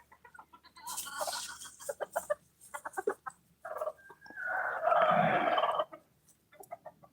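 Rooster and hens cluck and call in a series of short bursts, with one longer, louder crowing-like call in the middle. The birds sound fairly close, with quiet gaps between the calls.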